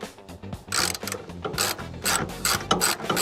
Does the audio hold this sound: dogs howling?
no